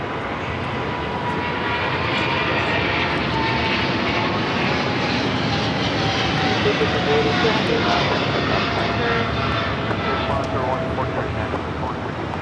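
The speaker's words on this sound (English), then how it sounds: "We have a takeoff now rolling on 25 left, China Airlines cargo 777 freighter." A China Airlines Boeing 777 cargo freighter takes off on runway 25 left at Los Angeles International Airport, its jet engines roaring as a loud, steady, broadband rumble that holds for the whole stretch, with faint talk underneath.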